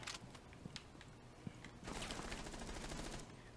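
SMG fire in a first-person shooter match: quiet rapid bursts with a sustained fusillade in the middle, heard faintly at a distance with scattered clicks and footsteps and no talk.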